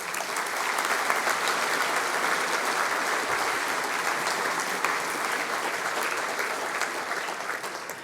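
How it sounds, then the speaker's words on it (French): An audience at a mayor's New Year address applauds the city staff, a steady sustained round of clapping from a sizeable crowd that holds at an even level and tapers slightly at the end. "Bravo à eux, et on peut les applaudir aussi."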